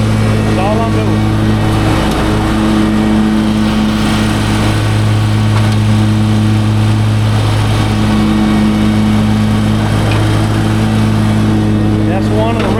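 A Skag X-Form riding mower engine drones steadily and loudly while mowing, pushing clippings toward a bed, with a constant close hum and small shifts in pitch throughout.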